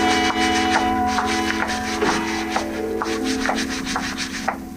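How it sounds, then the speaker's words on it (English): A marble lobby floor is scrubbed as a radio drama sound effect: rhythmic back-and-forth brushing strokes, fairly loud and close, repeating steadily over a faint hum. "scrubbing the floor."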